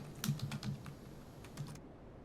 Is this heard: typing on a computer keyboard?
yes